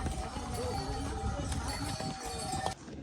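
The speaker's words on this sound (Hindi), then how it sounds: "इधर इंसानों से ज़्यादा घोड़े हो गए हैं।" Horses' hooves clip-clop along the Tungnath trek path in a busy, continuous patter under outdoor noise and people talking nearby.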